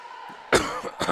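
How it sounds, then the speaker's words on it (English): Two sharp coughs, close and loud, the second following about half a second after the first, over a faint steady background hum. "Excuse me for the cough."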